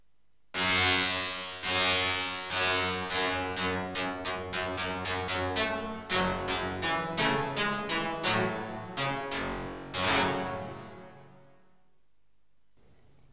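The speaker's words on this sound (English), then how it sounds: "so you can combine the comb filter and create pitched noise" A Pigments synthesizer produces pitched noise through a comb filter as a series of bright, buzzy, harmonically rich hits. They start slow and speed into a rapid stuttering run before fading out, with no talking.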